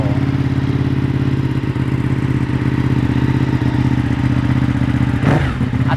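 A 2018 Ducati Panigale 959 Track-Evo fitted with an Akrapovic exhaust runs close by, a loud, steady, throbbing engine note that holds even throughout, with a brief rustle near the end and no talking.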